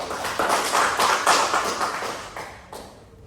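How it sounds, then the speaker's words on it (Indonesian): A small group, likely a classroom, claps for a student in a loose, uneven patter of hand taps that gradually thins and fades out, fairly close. "beri tepuk tangan untuk Anggun"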